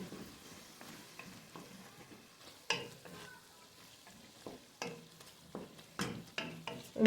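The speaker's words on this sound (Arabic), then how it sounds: "ونخلط هاد المكونات هذه." A spoon stirs and scrapes ingredients sizzling in a pot for a Moroccan fish and black mushroom soup, close and fairly quiet, with irregular scraping strokes over a soft frying hiss.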